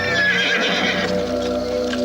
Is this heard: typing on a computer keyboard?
no